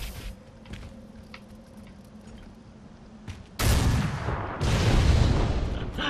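Boomshot explosions in Gears of War Ultimate Edition: after a quiet, low-rumbling stretch, two loud blasts erupt in quick succession, the second sustaining a heavy roar.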